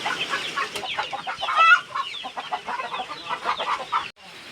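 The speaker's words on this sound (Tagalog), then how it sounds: "Hello chicken. Hello mga chicken." Several chickens cluck and chatter close by in a dense, continuous flurry, bought at a poultry seller, with overlapping short calls that fade briefly at the end.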